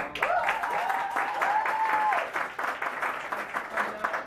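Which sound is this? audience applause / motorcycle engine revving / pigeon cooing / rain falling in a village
audience applause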